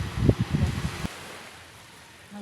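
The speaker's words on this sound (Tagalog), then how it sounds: "Ang hangin dito." Gusty wind buffets the microphone at a hot seaside resort, loud and rumbling for about a second before dropping to a faint, steady breeze.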